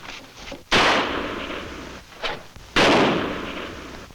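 Two sharp gunshot cracks in a Lone Ranger radio western, loud and close with echoing decay, plus a fainter pop between them; no talk.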